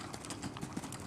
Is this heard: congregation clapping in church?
no